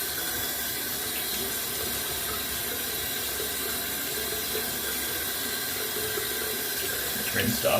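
Tap water runs in a steady, close, hissing stream while a razor is rinsed under it after a shave. A few faint clinks come near the end.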